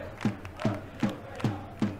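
Stadium crowd in the Football Manager 2021 video game roars in five evenly spaced surging bursts, like a rhythmic chant rising and falling about every second.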